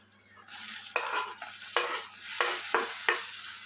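Ginger garlic paste fries in a pan with a steady sizzle, broken by several sharp scraping strokes of a spatula at a regular pace, close and fairly loud, with no voices.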